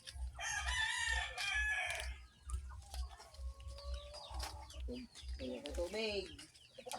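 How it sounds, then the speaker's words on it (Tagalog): Naked-neck chicken crowing on a farm, a loud close crow followed by shorter calls and clucks, with a low repeated thumping and scattered other sounds around it. "itong manok na walang balahibo ang liog"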